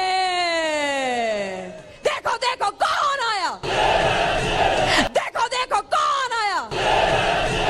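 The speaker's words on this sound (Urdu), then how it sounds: "کہیں گاڑی اور کہیں سٹیج پر کھڑے ہو کر شیر شیر کے نعرے لگواتی رہی" Political rally crowd loudly chanting slogans in rhythmic bursts, a raised voice leading calls that break into choppy repeated shouts from many people.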